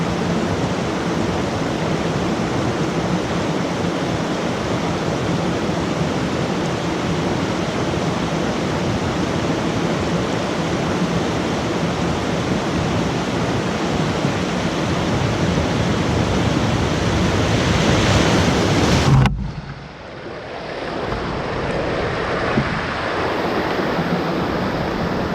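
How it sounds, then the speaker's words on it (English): Raging river roaring past at close range, a loud continuous broadband rush of water with steady churning; near the end it suddenly drops to a lower, duller wash, with no talking. "Look how raging this river is."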